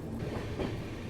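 A train runs along the track heard from inside a general class coach, a continuous low rumble and rattle of the carriage, close and steady, with no talking.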